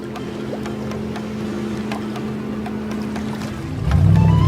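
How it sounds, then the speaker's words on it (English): A cartoon ferry runs at full speed across open water toward an island, a steady boat-engine drone with sloshing water throughout, swelling louder and heavier in the final half second. "Full speed ahead! The ferry is sailing to the island."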